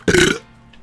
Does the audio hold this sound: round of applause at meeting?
no